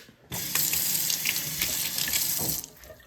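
Water runs from a kitchen tap into a sink during biscuit and egg preparation, a loud, steady splashing gush that starts abruptly and stops after about two seconds, close by with no voices.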